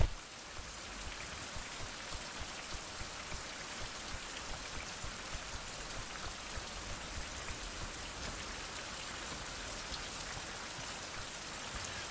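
Steady rain falls in a video game, a dense, even hiss of drops hitting the ground that stays loud and unbroken throughout, with no voices.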